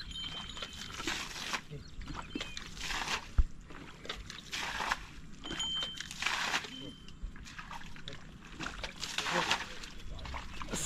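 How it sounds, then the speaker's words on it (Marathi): Water splashing and sloshing as it is thrown with a scoop while a paddy field is plowed in rural Konkan, Sangmeshwar, with repeated bursts of splashes at an uneven rhythm and people talking throughout. "उपशाने पाणी मारावं लागतं नांगरताना."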